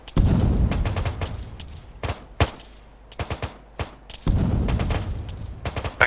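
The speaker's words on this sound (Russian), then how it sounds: "Они шьют там с города, они стреляют неприцельно" Bursts of rapid automatic gunfire in the Arma 3 video game, loud broadband volleys with sharp single shots in between, some near and some more distant, with no voices.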